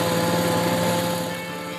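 A tiny moped ridden through a Cambodian jungle, its small engine giving a steady high-pitched buzzing drone that holds level, then eases slightly toward the end, with no voices.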